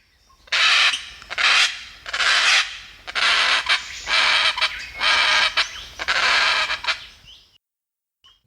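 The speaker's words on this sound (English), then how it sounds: "I've heard this like raspy parrot call" A series of about seven harsh, raspy calls from a Dracula parrot, loud and close, each a drawn-out screech separated by short gaps, then silence.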